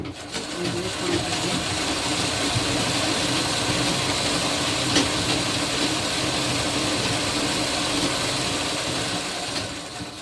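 A sewing machine runs nonstop while double-stitching a kurti, giving an even, dense mechanical whir at a steady level for the whole stretch, with no talk.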